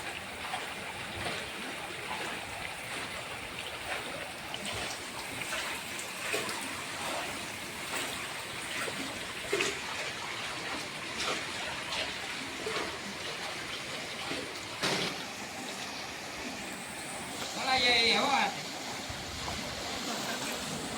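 Floodwater from record-breaking rain rushes past a farm in a steady, broad roar of flowing water, close and continuous, with a brief brighter splash-like burst near the end and no voices.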